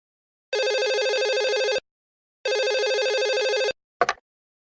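A telephone rings in two long bursts of a harmonic electronic bell tone with a short gap between them, loud and close, followed by a brief click as the handset is picked up; no one speaks.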